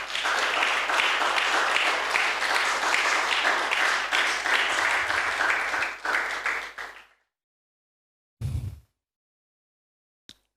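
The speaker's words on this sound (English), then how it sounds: "Shall we clap?" A congregation claps together at a church service, loud dense applause filling the room for several seconds before dropping away to silence, followed by a brief isolated burst of sound and a faint tap.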